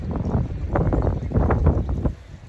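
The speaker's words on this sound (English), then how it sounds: "It's starting to rain and it's super windy out." Strong wind buffets the microphone in gusty, roaring bursts as rain begins, with a low rumble and no voices.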